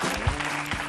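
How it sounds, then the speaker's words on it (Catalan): Studio audience applause on a television talk show fills the whole moment, a dense, steady patter of many hands clapping at close range. "Un aplaudiment per en Joan Josep Queralt."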